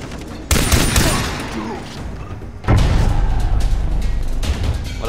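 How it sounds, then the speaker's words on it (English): Two sharp gunshot blasts in the video game Far Cry 3, each loud and close, with a sustained rumbling rattle after the second shot. "I accidentally shot the wall."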